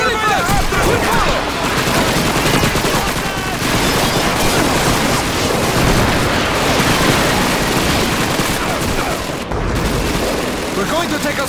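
Dense gunfire from the Call of Duty 2 video game, a sustained loud fusillade of rifle and machine-gun shots with booming impacts, filling the whole stretch without pause amid shouted voices.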